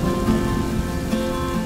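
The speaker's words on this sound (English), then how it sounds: "I just heard the rain." Steady rain falls through a mountain forest along a bikepacking route, a dense, even patter that stays close and constant with no voices.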